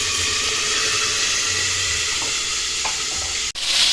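Vegetables and fish for pinakbet fry in hot oil in a pan, a loud, continuous sizzle with scattered stirring scrapes and a sharp knock near the end.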